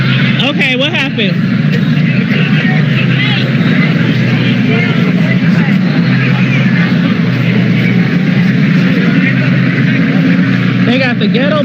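Loud, steady rotor and engine roar of a police helicopter passing overhead above an outdoor crowd at a shooting during the Native Omaha Days celebration, with people talking and shouting underneath throughout.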